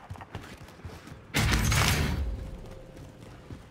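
A burst of distant gunfire in a shooter video game erupts suddenly midway, loud and dense for about a second before decaying into a rumbling tail, after quieter scattered thumps.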